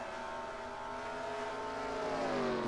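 Race cars on the New Hampshire track, a continuous engine roar with rising harmonic whine as a car accelerates, steady and moderately loud with no voices.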